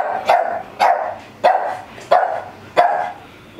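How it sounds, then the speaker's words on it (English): A dog barks five times in a steady, evenly spaced rhythm, each bark sharp, loud and close, with nothing else heard between them. "now that Baxter has finished barking"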